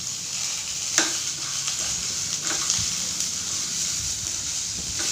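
Coriander for chutney sautés in a pan with a continuous close sizzle and frying crackle, broken by a few sharp clicks of stirring.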